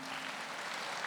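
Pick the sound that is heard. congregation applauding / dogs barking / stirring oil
congregation applauding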